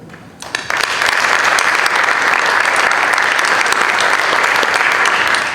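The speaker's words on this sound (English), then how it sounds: "So please clap it up for him." Sustained applause from an audience at a Board of Education meeting honoring a teacher, rising abruptly and holding loud and steady with dense clapping throughout.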